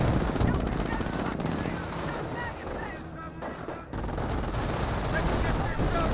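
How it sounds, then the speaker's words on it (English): Battle sounds from Company of Heroes, a World War II strategy game, fill the scene: dense rattling gunfire and chattering bursts run throughout, with a muffled mortar impact near the middle and the clamor continuing loud afterward. "great mortar hit there."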